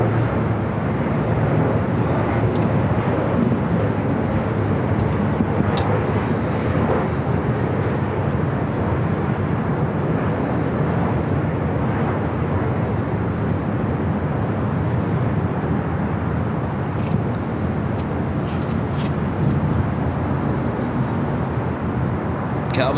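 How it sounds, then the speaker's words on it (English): A Cathay Pacific Boeing 777-300ER at LAX gives off a steady, loud broadband jet roar that holds constant throughout without any talk. "Also have the Cathay Pacific 777-300ER heading back to Hong Kong."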